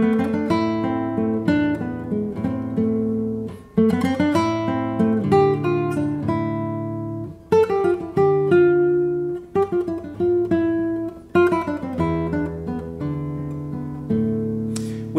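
A beginner classical guitar piece is played lively and fairly fast on nylon strings, with quick plucked notes and ringing arpeggiated chords in an even, flowing rhythm, close and clear without speech.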